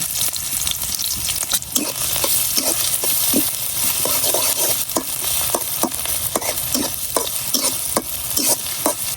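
Nigella seeds, onion and garlic sizzle steadily in a pan for a spinach and potato stir-fry, with a run of sharp spatula scrapes and knocks as the mix is stirred close by.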